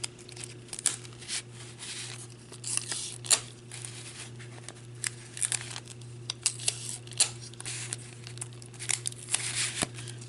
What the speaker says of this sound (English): I'm going to take some double-sided tape and just put a piece at each corner like this.